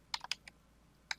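Computer keyboard typing a filename in a text editor: a few quick, light key clicks in a short burst, then a pause and one more click, close and quiet.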